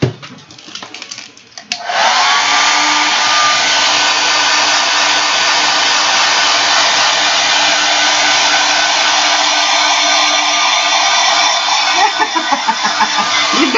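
A hair dryer switches on and runs steadily at close range, drying marker ink on Yupo paper, with a loud continuous whooshing roar after a brief stretch of handling noise.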